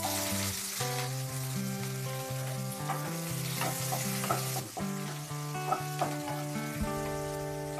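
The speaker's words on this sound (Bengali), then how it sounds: "কারি পাতা, শুকনো লঙ্কা আর এখানে হচ্ছে সর্ষে, কালো সর্ষে, এটাকে আগে তেলের মধ্যে দিয়ে" Black mustard seeds, curry leaves and dried chillies sizzle and crackle steadily in hot oil in a home kitchen, a close, continuous frying hiss with scattered pops, heard alone with no voices, alongside a sustained tonal hum.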